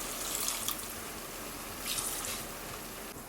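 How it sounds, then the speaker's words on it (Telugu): Water pours steadily into a pan of chicken curry to loosen it into gravy, for a bagara rice meal: a continuous close splashing, bright pour lasting about three seconds with slight surges and no talking. "గ్రేవీ కోసం ఇంకొంచెం వాటర్ యాడ్ చేద్దాం ఇందులో"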